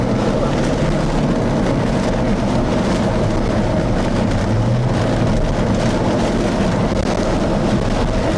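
Heavy rain pours down during a storm over northeast Ohio, a loud, dense and continuous roar that never lets up.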